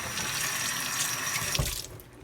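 Kitchen tap running steadily into a sink for about a second and a half, a continuous close hiss of flowing water that cuts off abruptly, leaving quiet room tone.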